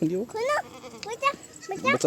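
Several loud, wavering goat bleats close by, interleaved with excited human voices calling out.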